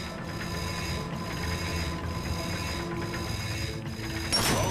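Turning a bolt crank in the video game Ratchet & Clank, a continuous mechanical grinding of gears and ratcheting clicks holds steady throughout, with a brighter metallic burst near the end.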